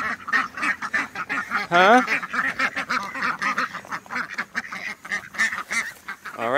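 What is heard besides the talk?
ducks quacking, including a molting drake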